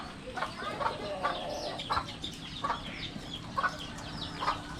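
Chickens cluck and chatter intermittently near their coop at night, with soft, irregular calls rising over a steady low background hum.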